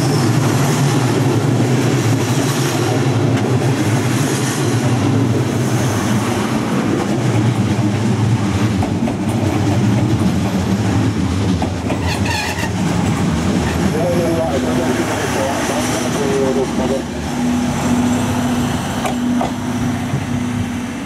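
An ED76 electric locomotive hauling a group charter train pulls into a station platform. Its loud steady rumble and wheel noise come with a few squeals, and a platform announcement carries over the top.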